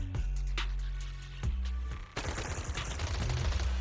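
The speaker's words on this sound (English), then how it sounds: "A sharp gunshot echoes from not far away, like the crackling of a dry firework on a summer night immediately after" Gunfire in the Zenless Zone Zero video game: a sharp shot, then another, followed by a dense, loud burst of rapid automatic fire with crackling reports layered over deep booming rumble.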